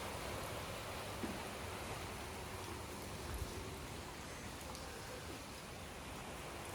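Steady, dense hiss of rain falling all around, even and continuous with no voices.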